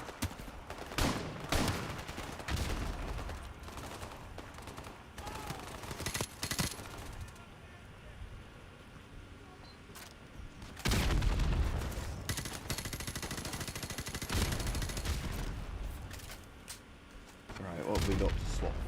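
A short-range shotgun in a video game fires in loud, booming blasts, some clustered and some spread apart, over steady game ambience while someone talks.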